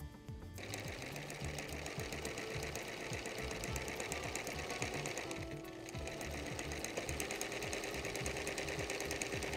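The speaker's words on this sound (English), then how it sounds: "I'm going to stop sewing 1/4 of an inch from the corner" A sewing machine stitches bias binding onto a quilt, running steadily and close up with a rapid, even needle rhythm, pausing for a split second near the start and briefly again midway.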